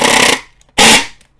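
A screwdriver or drill unscrews the grounding wire on top of a Chauvet CH 650 Defiant color change stage light, giving two loud bursts of whirring and grinding, each about a third of a second, separated by a short pause.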